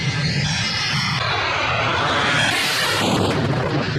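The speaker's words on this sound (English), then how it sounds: "this Aerocirce has almost run off the runway and can hardly take off" Cargo airplane engines roar steadily and loudly during a low pass over a runway, a dense continuous drone that holds throughout without speech.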